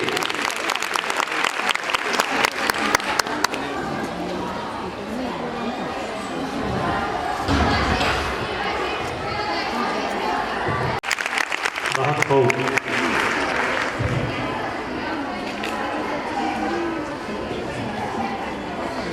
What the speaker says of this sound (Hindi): आवाज़ बुलंद तालियां बजाइए जोर से